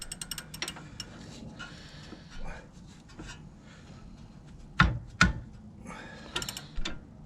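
A torque wrench ratchets while tightening the wheels on a Volvo V70 during a front brake and driveshaft job, giving soft repeated clicks and a few louder sharp clacks in a quiet garage.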